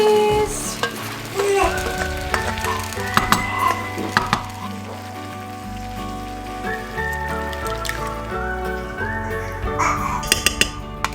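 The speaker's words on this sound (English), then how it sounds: "Okay, give that a nice stir." A spoon stirs a vegan chickpea and squash stew in a pot, with scraping and soft sizzling alongside steady background music.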